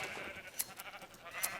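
Sheep bleating on a small sheep farm in a Minecraft-style video game, a few faint, brief bleats scattered over quiet background.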